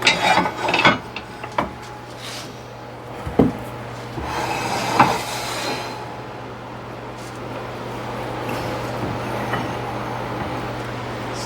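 A woodturning lathe cuts the tenon off an ambrosia maple piece held on a jam chuck with carpet pad: a few sharp scraping bites at the start over a steady motor hum, settling into continuous rough rubbing.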